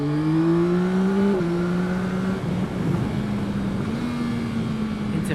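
A 2021 Yamaha Tracer 9 GT motorcycle rounding a corner, its engine holding a steady droning tone that dips and shifts pitch as the rider eases off and back on, heard close over wind noise.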